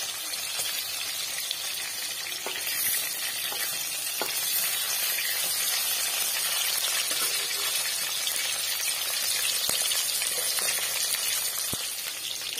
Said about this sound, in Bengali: আস্তে আস্তে করে লাল করে একটু ভেজে নেবো।